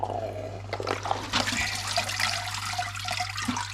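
Dirty water from an Eheim 1200XL filter on a large discus aquarium is swirled in a bucket, sloshing and trickling at close range over a steady low hum, with no talking heard.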